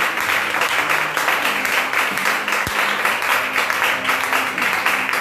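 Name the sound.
congregation applauding and acclaiming the Lord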